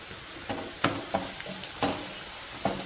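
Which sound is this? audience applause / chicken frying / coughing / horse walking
chicken frying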